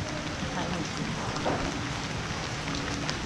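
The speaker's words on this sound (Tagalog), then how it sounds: "Lakas ang ulan." Heavy rain pours steadily in a broad, continuous hiss at a birthday gathering, with a faint thunder-like rumble underneath and no clear talk.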